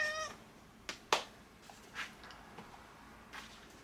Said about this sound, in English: My cat is here now.